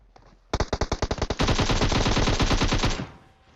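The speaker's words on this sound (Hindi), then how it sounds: "जब भी मेरे अलावा कोई और M762 पटकाता है, तो उस गन की आवाज 100 गुना ज्यादा आती है रिकॉर्डिंग में" M762 assault rifle fire in the PUBG Mobile video game, close and loud: a rapid string of single shots followed by a sustained full-auto burst lasting about two seconds, then quiet.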